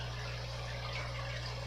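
An aquarium pump pushes water across a fish tank, a steady low hum with a soft continuous wash of circulating water, faint and unbroken, with no voices.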